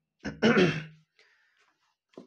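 A man who is unwell clears his throat and coughs, a harsh burst followed by a faint rasp and one short cough at the end, close to the mic with no speech.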